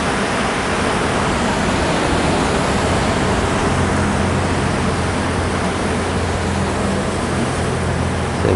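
Ocean surf at Bald Head Cliff roars as a loud, unbroken wash of crashing and rushing water, filling the air steadily from start to finish.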